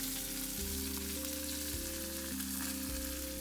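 Green chilies and onion fry in a pan, a steady, even sizzle running the whole time beneath a low tonal hum that shifts pitch in steps; no one speaks.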